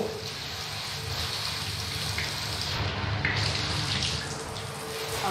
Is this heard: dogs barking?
no